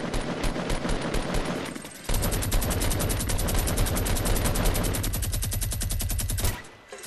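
Loud rapid gunfire in Fortnite, sustained bursts of automatic shots in fast rhythmic succession, pausing briefly before resuming in a long, heavier stream that cuts off near the end.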